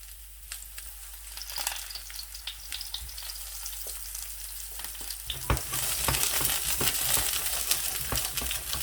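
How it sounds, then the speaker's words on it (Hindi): Eggplant pieces fry in hot oil in a pan, a crackling sizzle with stirring scrapes that swells louder and denser partway through as more pieces hit the oil, no speech. "इसी तरीके से बैंगन जो है मैं फ्राई कर लूँगा बारी बारी।"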